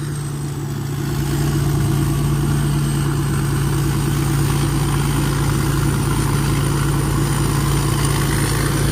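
A Hino 270 turbo diesel truck engine idles steadily up close, a deep constant rumble with a low droning hum throughout, no voices.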